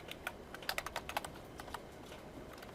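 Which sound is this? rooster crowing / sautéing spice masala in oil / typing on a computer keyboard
typing on a computer keyboard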